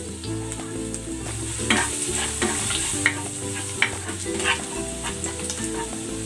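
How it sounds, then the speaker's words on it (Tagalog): Garlic sautéing in cooking oil in a pan with pork, a steady close sizzle broken by scraping stir strokes and a few sharper clacks of the utensil, no voices. "Gigisa ko na tong bawang."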